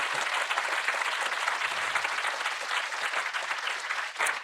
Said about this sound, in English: get ready to clap again